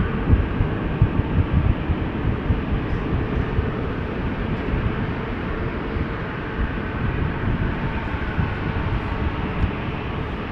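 A jet airliner taking off from a secondary departure runway at Amsterdam Schiphol Airport, heard as a steady, heavy engine roar and rumble that holds for about ten seconds with no talk.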